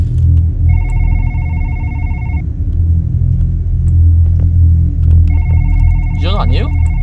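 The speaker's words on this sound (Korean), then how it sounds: "전화 왔어." A telephone rings in a horror video game, two long bursts of electronic trilling over a deep, loud droning rumble, with a brief voice near the end.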